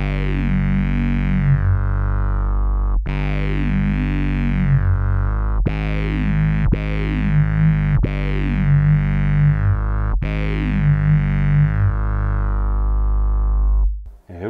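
Synthesizer sine wave in a bass patch, its pitch wobbling up and down around a center as a series of sustained gliding notes with short breaks, loud and alone, ending abruptly.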